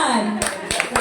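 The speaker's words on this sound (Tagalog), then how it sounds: "palakpak ko sa Panginoon sa buhay ni Kuya Roldan." A few sharp handclaps at a Sunday church service, praising the Lord during a testimony for a birthday; three distinct claps near the end follow a stretch of background tones, brief and close.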